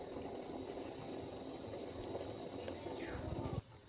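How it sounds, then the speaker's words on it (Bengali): Rice boiling in a pot, a close, steady bubbling and gurgling that runs under a low background hum and cuts off abruptly near the end. "ভাত ফুটছে।"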